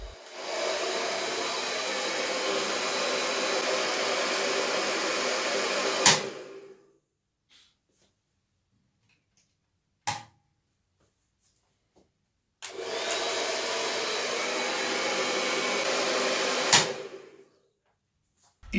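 A hair dryer blows hot air onto the thermostats beside electrical outlets, running loudly for about six seconds, cutting off with a click, then starting again for another burst before switching off.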